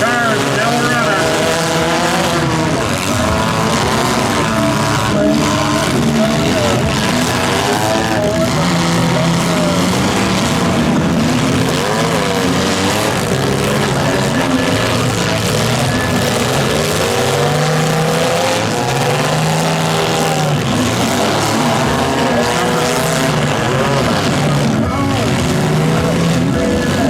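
A pack of wrecked mini cars keeps running in a Schomberg demolition derby final, engines roaring and revving in overlapping waves with occasional clunks, sustained and loud, with an announcer speaking over the engines throughout.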